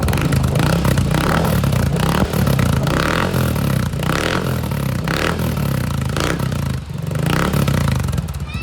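A Yamaha Xmax 300cc scooter fitted with a Contrabida Power Pipe exhaust revs and runs nearby, a raspy mid-pitched engine note rising and falling in bursts with some clattering, loud and alone.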